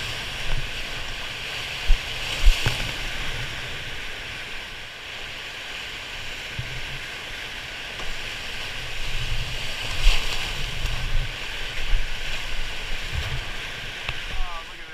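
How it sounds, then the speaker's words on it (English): Steady broadband rush of whitewater rapids on Marsh Creek, a continuous close roar with wind buffeting the microphone and a few brief knocks, no talking. "some sick whitewater"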